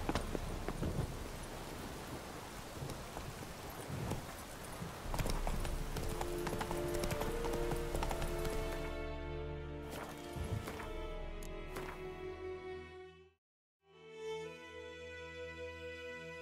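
Roach the horse clip-clops steadily on hooves in Witcher 3, with a brisk even rhythm over game music, then the hoofbeats fade and briefly drop out before the music returns.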